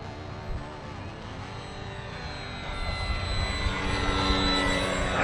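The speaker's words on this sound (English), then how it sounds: "Oh, what a plane. I love this thing." A Durafly Night Tundra RC plane flies at night, its small electric motor humming steadily and swelling slightly as it comes closer. It stays moderately faint against a broad outdoor hiss.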